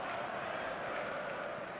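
A stadium crowd in the eFootball 2026 mobile football game, a constant far-off roar of massed fans that holds at an even level, with a faint hint of voices mixed in.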